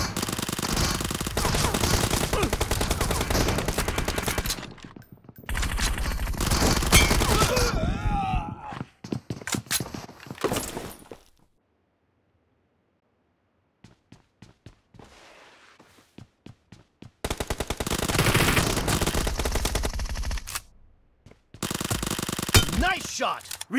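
Video game gunfire: loud rattling automatic bursts and single shots come in clustered volleys, with a long quiet gap in the middle before the shooting resumes.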